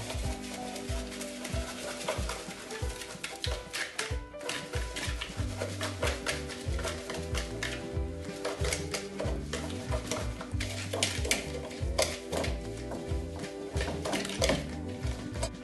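Sugar being stirred into softened butter in a bowl while making biscotti, with a steady run of scraping and clinking utensil strokes against the bowl under continuous background music.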